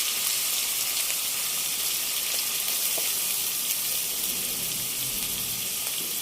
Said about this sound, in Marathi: तुम्ही बघू शकताय आपलं तूप व्यवस्थित तापलेलं आहे। त्याच्यामध्ये आपण हे गाजर घालूया